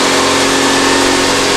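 Multi-cylinder petrol engine running steadily at about 2700 RPM on a test bench, a loud, constant hum with no change in pitch.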